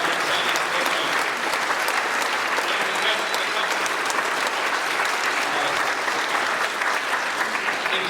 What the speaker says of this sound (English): join me in giving a round of applause for their outstanding effort